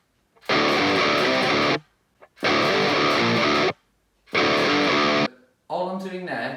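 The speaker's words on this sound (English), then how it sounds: "All I'm doing there is power chords." Three loud, heavily distorted electric guitar power chords ring out, each held about a second and separated by short silences, followed by someone speaking.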